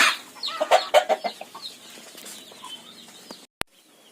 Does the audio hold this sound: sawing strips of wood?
no